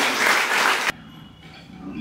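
Children in a school or village gathering applauding, a dense burst of clapping that cuts off abruptly after about a second, leaving faint room noise.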